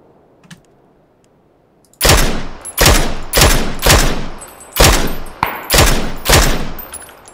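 Gunfire in the battle-royale game PUBG: after a quiet stretch, about eight loud, sharp shots ring out in quick, slightly uneven succession, each followed by a brief echoing tail.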